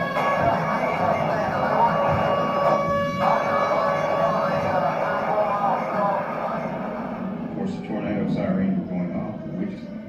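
A tornado siren wails steadily inside a tornado theater exhibit, a loud sustained drone that fills the room, while a person talks over it toward the end.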